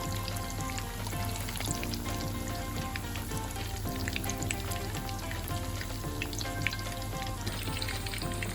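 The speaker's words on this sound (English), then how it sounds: "So I'm going to allow that to fry for a while." Coated king prawns fry in hot oil over medium heat, a dense steady sizzle with crackling pops that runs unbroken and close throughout, with no voices.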